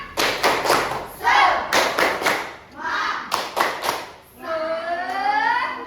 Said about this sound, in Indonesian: supaya lebih bersemangat lagi, tepuk semangat